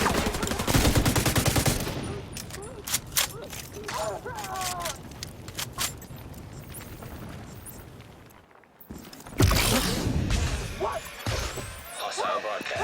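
Rapid bursts of automatic gunfire from weapons in a shooter video game, loud and dense for the first stretch, then scattered shots, a brief lull, and renewed heavy firing near the end.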